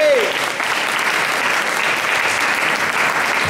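An audience at a French poetry slam bursts into dense, sustained applause for the poet, a loud wash of many hands clapping at an even level from start to end.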